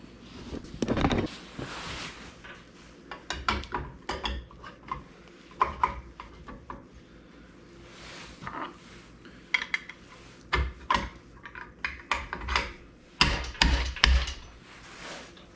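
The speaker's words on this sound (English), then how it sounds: "Now all you gotta do is tighten your nut back down and you're all set." Sharp metallic clanks and taps ring out in irregular clusters as a nut is tightened back down on a boat trailer winch, close and fairly crisp with no one talking.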